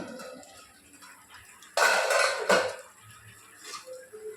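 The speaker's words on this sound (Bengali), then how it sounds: "ঢাকাটা খুলে দেখে নিচ্ছি" A lid is lifted off a cooking pot of simmering curry with water and vegetable stalks, giving a brief loud metallic clatter and scrape of pot and lid, close up, with quieter kitchen handling before and after.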